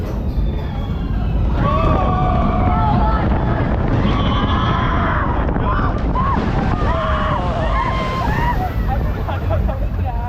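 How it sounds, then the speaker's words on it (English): Steady roaring rush of wind and motion noise from the fast-moving Expedition Odyssey boat ride at SeaWorld Orlando, with faint voices and scattered cries mixed into the din. "See the boat's moving much faster now."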